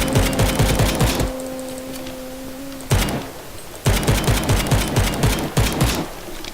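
Rapid bursts of pistol fire in the browser shooter Krunker.io, quick repeated clicky shots in several strings separated by short pauses, loud and close.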